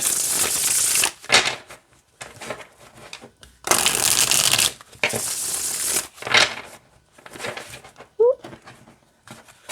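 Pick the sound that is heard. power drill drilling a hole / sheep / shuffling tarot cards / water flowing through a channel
shuffling tarot cards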